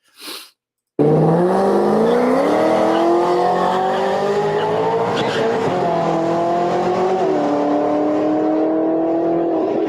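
A Ford GT500 with a full exhaust, 6R80 transmission and 17- and 18-inch wheels launches hard after a brief blip, its loud engine climbing through gears in a sustained roaring acceleration, a shift audible midway.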